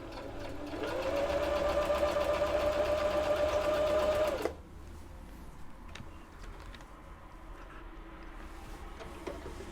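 An old Husqvarna sewing machine stitches with a steady, close whirring hum for about four seconds, then stops abruptly and leaves a quiet room with faint small clicks.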